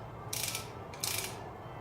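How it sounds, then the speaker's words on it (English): A torque wrench clicks twice in quick succession, each a bright ratcheting burst, while tightening the center bolt on the crank pulley of a 1982-92 Camaro, close by with no talk. "And then you'll torque it to 60 foot-pounds."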